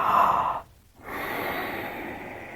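One person does deliberate, exaggerated fake-yawn breathing: a long, loud inhale, a short pause, then a slow, steady breathy exhale, close and with no talk.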